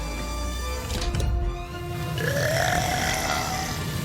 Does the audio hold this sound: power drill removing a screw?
no